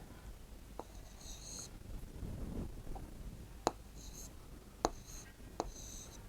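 Urdu letters written by hand, soft scratchy pen strokes coming in short bursts, with several sharp taps of the pen against the page and faint whispery breath between them.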